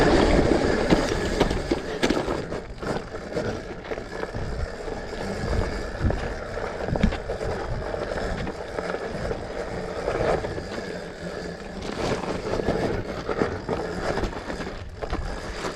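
A lightweight mini electric motorcycle on knobby tires rolls along with a steady rough rumble and rattle, wind and road noise loud and close throughout, with no clear voice.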